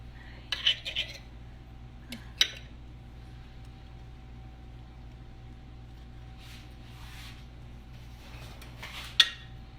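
A knife cuts into a fresh homemade dinner roll and spreads butter, producing a few faint, sparse clinks and scrapes against a plate in a quiet room.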